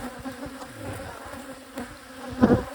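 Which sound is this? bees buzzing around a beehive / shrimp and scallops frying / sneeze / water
bees buzzing around a beehive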